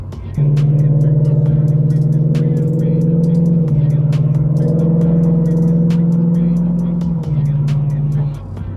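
A Lexus RC F engine holds a steady, loud, deep rumble near 2,500 RPM, with two small pitch dips as the revs ease and return, continuous for about eight seconds.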